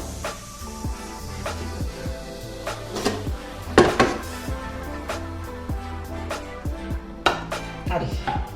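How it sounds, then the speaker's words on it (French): Kitchen handling noises as a zucchini and cheese cake is unmolded from its pan: scattered clinks, taps and knocks of pan and utensils, one sharper clatter midway, close and moderately loud with no talking. "Donc on va le démouler."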